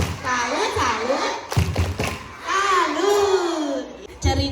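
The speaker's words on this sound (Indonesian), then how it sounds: "anak-anak kita kasih tepuk salut dulu dong buat Wildan, buat kita semua ya" Schoolchildren in a class of first and second graders perform a rhythmic clapping chant, with bursts of hand claps and thumps alongside their chanting voices, close and lively, and an adult voice talking around it.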